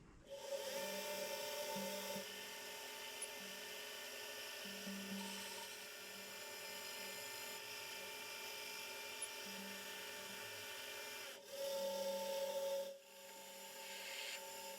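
Drill biting steadily into a metal block for a tailstock build, a sustained whining, grinding cut that swells louder for a moment near the end, with no voices.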